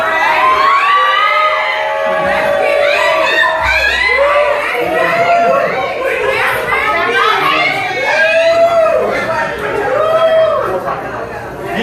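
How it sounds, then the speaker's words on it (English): A loud crowd cheers and shouts continuously, with children's voices prominent among the excited yelling throughout. "Give me a second while I enjoy the applause"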